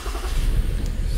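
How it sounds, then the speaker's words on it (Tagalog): A Toyota Avalon or Camry with a random misfire cranks and starts, a low rumbling engine turning over and catching close by. "So engine start."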